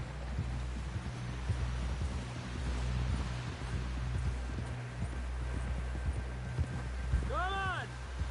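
Horse hooves clip-clop steadily in Red Dead Redemption 2 during a ride back toward camp, a soft rhythmic patter under wind and game sound, with characters talking over it.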